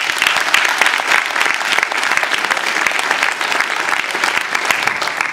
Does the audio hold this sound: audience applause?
yes